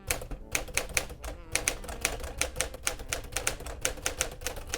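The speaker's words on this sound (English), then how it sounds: "the best part of all when it comes to a Smith Corona Silent Super is that inimitable sound that it makes" Rapid, crisp keystrokes on a Smith-Corona Silent-Super typewriter clatter in a steady, busy rhythm, close and fairly loud, with no pauses beyond brief gaps.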